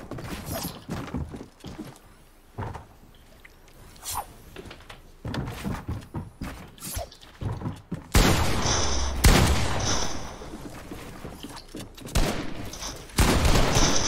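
Video game gunfire, repeated loud shots and bursts in irregular volleys across the whole stretch, some near and sharp, with mechanical clicks and thunks between them.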